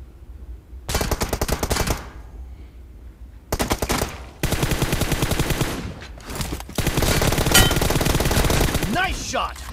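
Bursts of rapid automatic gunfire from a shooting video game, loud and close, in three long volleys separated by brief pauses, with faint reload clicks near the end.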